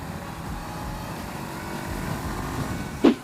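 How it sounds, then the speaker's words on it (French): A 2019 Honda CBR500R motorcycle with its stock exhaust hums steadily while riding, a moderate engine drone with wind noise and a brief sharp clack near the end. "Le pot évidemment donc est d'origine. Le bruit est sympa"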